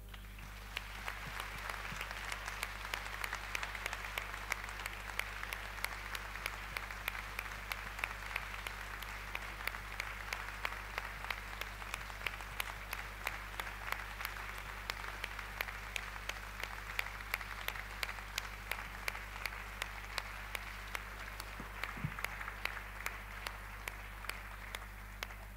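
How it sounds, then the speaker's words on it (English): Sustained applause from the audience at the Martin Ennals Award Ceremony 2022, honouring the laureates, a steady dense clapping that carries on evenly for the whole stretch with no talk over it. "So with a round of applause, let's please remember Father Stan and our wonderful laureates."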